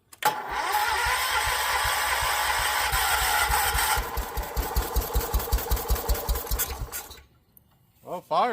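A long-dormant Kohler K321 engine on a John Deere 314 garden tractor cranks loudly, catches and runs roughly for a few seconds with a rapid pulsing beat, then sputters and dies into quiet.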